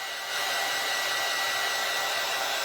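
A hair dryer blows steadily and loudly at close range, drying fresh paint on a pumpkin, with a continuous broadband whoosh from start to finish and no talking.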